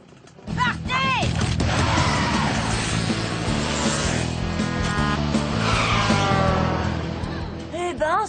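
Cartoon race cars skid loudly at the start of a mini grand prix, with screeching tires and revving engines filling the whole stretch and a voice heard over the noise.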